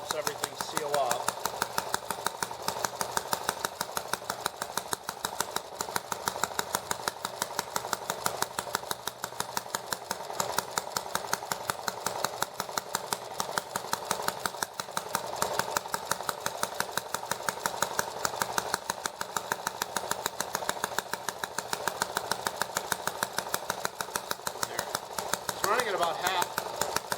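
ET8 engine running steadily after repairs with the throttle body set at half, a continuous rapid mechanical chatter at an even level throughout, with a voice talking over it.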